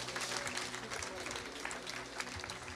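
A church congregation at a healing service applauds together, a steady dense wash of clapping with murmuring voices mixed in, moderately loud and continuous throughout.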